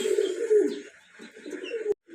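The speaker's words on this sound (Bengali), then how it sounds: "এগুলোকে বলা হয় মিশরি কবুতর" Egyptian pigeons give low, throaty coos at close range, a couple of rolling calls with a short pause between them and no talking.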